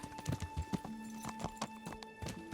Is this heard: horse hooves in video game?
yes